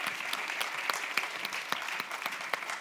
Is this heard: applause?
yes